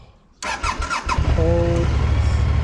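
A BMW C650GT scooter engine starts with a brief cranking whir of a few quick pulses, then catches and settles into a steady, close idle hum.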